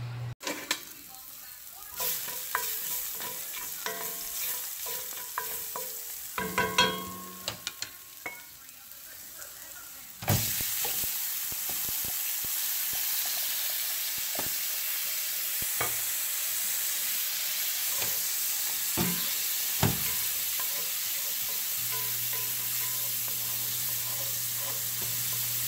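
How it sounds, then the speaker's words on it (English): Crushed garlic sizzles in a hot searing pot, with scattered clinks and stirring, then a sudden louder, steady hiss as white wine hits the pan and keeps bubbling. "I'm going to crush some garlic in it and then deglaze it with some white wine."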